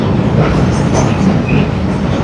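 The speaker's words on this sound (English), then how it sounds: "We're on the tube now, and this is a very tiny train." A small London Underground tube train runs loudly from inside the carriage, a heavy, constant low rumble of wheels and motor with rattling and a brief higher squeal.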